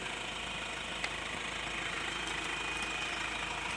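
Ford Everest 2.0L 4x4 engine idling, a steady, even mechanical hum and faint knock throughout, heard close with no talking.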